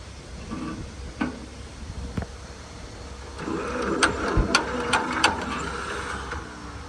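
An old six-volt John Deere B farm tractor engine turns over and runs roughly nearby outdoors in wind, with mechanical clicks and knocks over a low, uneven rumble.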